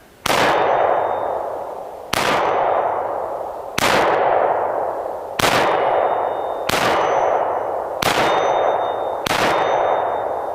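Seven single shots from a Ruger P95 9mm pistol ring out at a steady pace about every one and a half seconds. Each is a loud, sharp crack with a ringing decay, and no voices are heard.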